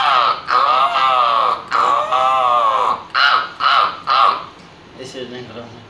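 A voice imitates a crow's caw, giving about six loud, close, drawn-out caws in a steady series that fade at the end.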